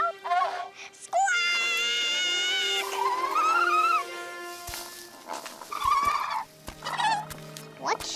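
Troodon dinosaur calls from a children's TV show: a series of shrill, wavering squeals and warbling cries, some long and sustained, others short and chirping, coming in bursts with brief gaps.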